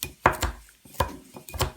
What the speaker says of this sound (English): I'm going to cut up the coriander